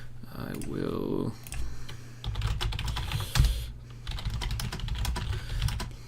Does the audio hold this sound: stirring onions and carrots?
no